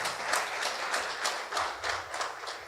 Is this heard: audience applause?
yes